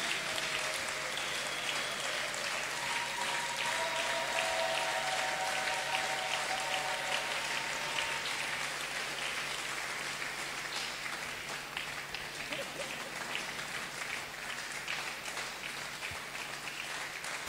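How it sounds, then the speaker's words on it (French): A church audience applauds a man now a doctor and professor, the clapping a dense, steady wash heard from some distance that slowly fades, with faint voices mixed in. "Acclamons-le"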